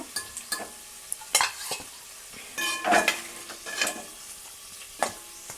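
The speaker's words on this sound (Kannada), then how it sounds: "ಸೊ ಇವಾಗ ಚಿಕನ್ ಚೆನ್ನಾಗಿ ಫ್ರೈ ಆಗಿದೆ" Chicken for Hyderabadi biryani frying in a thick pot, with a soft steady sizzle broken by repeated scraping stir strokes and light clinks of a spoon against the metal, close up, with no talk.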